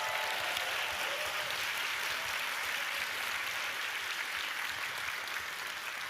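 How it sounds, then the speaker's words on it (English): Dense, even applause from a conference audience at a digital industry event, continuing steadily throughout at moderate loudness with no talking over it. "can I just have a huge round of applause for both the speakers and the organisers for such an amazing day?"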